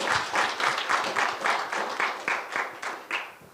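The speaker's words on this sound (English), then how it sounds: "Maybe we can give a round of applause to our panelists." At a business seminar in Manzini, an audience applauds its panelists. Scattered hand claps come through at close range and keep a loose, pulsing rhythm that peaks roughly every half second. The clapping stays moderately loud throughout and is mostly free of speech.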